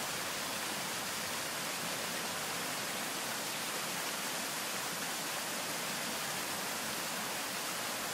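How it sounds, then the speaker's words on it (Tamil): Steady, dense sizzle of river fish frying in hot oil, close and constant throughout without a break, with no voices over it. "ஒன்று ஒன்றா ஒட்டாமல் தனித்தனியாக நம்ம ஃப்ரை பண்ணிக்கலாம்."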